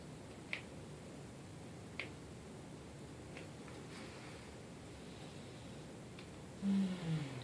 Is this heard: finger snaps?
yes